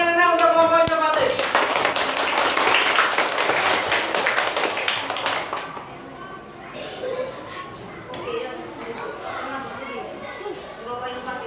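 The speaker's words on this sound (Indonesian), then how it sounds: "Beri tepuk tangan yang enak untuk kelompok inovatif." Classroom of students claps for a presenting group, loud brisk clapping for about five seconds that fades out, followed by children's voices talking in the room.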